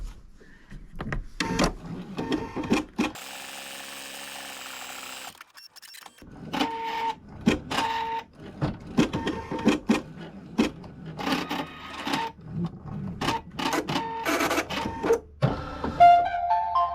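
An embroidery machine stitches the surround of a free-standing lace panel for an apron, with rapid rhythmic needle clatter and whirring motor tones, a brief steady hum in the middle, and continuous close, moderately loud mechanical activity.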